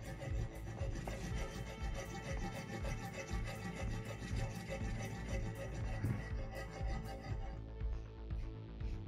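Steady rasping strokes of a file scraping burrs off a Vegeta sculpture, continuous and close, with no voices.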